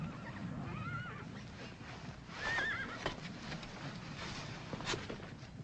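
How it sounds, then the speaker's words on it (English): A horse whinnies loudly with a rising and falling neigh, over a steady background of hoof clip-clop and outdoor noise. "Captain Barham, let me ride one of them wild bucking horses, will you?"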